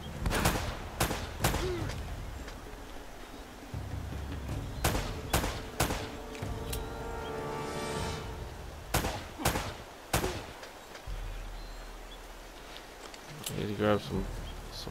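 Repeated gunshots in Uncharted: Drake's Fortune, sharp bursts and short volleys of shots scattered across the span with quieter gaps between, game sound effects under someone talking.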